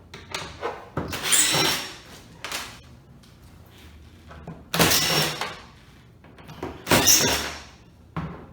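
Power drill backing screws out of the rear panel of a flat-screen TV, in three separate whirring bursts with quieter pauses between them, moderately close and with no talking.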